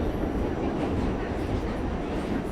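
New York City N subway train running between Manhattan and Queens, a steady loud rumble and roar of the moving car, continuous throughout with faint talk beneath.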